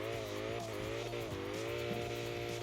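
BMW M4 drifting in CarX Drift Racing, a steady droning engine note holding high revs with slight pitch wobbles and a constant tire hiss, loud and continuous throughout with no talk.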